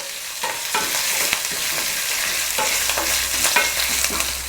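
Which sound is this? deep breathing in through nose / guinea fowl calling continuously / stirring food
stirring food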